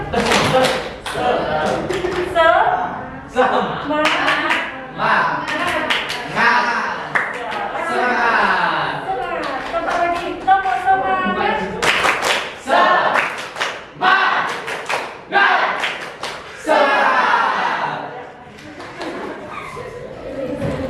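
A school class claps a quick rhythmic spirit-clap pattern of sharp bursts, mixed with voices chanting and talking throughout.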